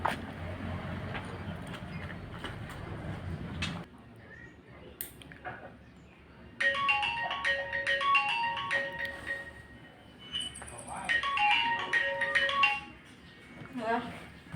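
An incoming call sets off a phone ringtone: a melodic electronic tune plays in two bursts over background noise, after an earlier stretch of muffled room sound and voices.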